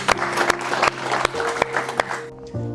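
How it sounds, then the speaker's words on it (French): Audience applause for a guest on a French talk show, a dense wash of clapping with sharp accents that thins out toward the end. "on peut l'applaudir, les gars."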